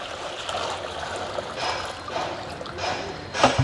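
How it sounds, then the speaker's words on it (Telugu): Water poured into a small tray, a continuous close trickle and splash that ends with a brief louder gurgle. "ఇదిగోండి ఈ డిప్పలో నీళ్లు పోసేస్తున్నా."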